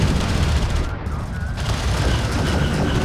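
Gunfire striking an armored vehicle in Homeworld: Deserts of Kharak, a dense rattling barrage of shots and impacts that runs loud and unbroken, with a voice speaking over it.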